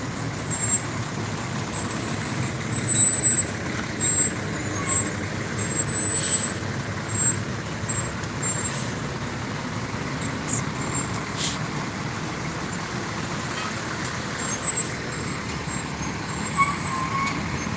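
Fire trucks drive past in a parade of lights in Oak Hill, West Virginia, a continuous low engine rumble with occasional hissing air-brake bursts, moderately close and without speech.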